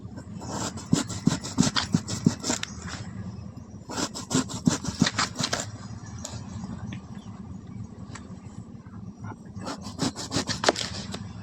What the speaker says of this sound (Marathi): आता ह्याची कापा काढूया अशी कापा काढायची